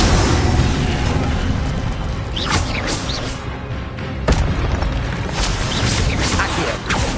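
An Incendio fire spell cast in the video game Hogwarts Legacy: loud crackling bursts and whooshing flares layered over dense, continuous game noise with several sharp hits.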